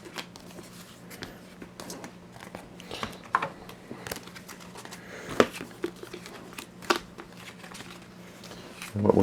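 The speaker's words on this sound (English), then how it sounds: "just shuffle these in and draw another hand" A deck of trading cards for a Noble Knight deck is shuffled by hand, giving soft crinkly riffles and scattered sharp snaps and taps close by, with no talking.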